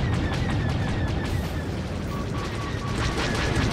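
Photon torpedo fire from a starfighter in Star Wars: The Old Republic space combat: a dense, loud, continuous roar of blasts and rumbling weapon fire with faint electronic beeping tones over it.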